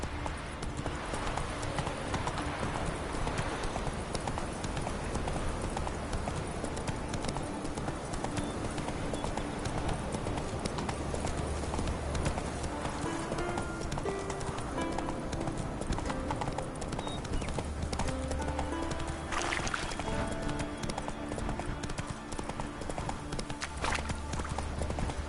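Horse hooves clip-clop in a constant, brisk rhythm for the whole stretch in a PS4 video game, with music and ambient game sound beneath.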